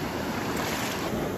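Big ocean waves rolling in at a shoreline fishing spot, a dense continuous wash of surf mixed with wind noise on the microphone, steady and moderately loud with no voices.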